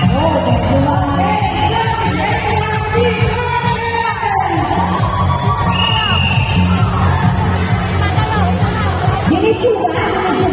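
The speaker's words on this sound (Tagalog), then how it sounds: "Hiyawan" Cheering and shouting from a crowd at a school program fills the space, a loud, sustained mass of yells and whoops with voices calling out over the noise throughout.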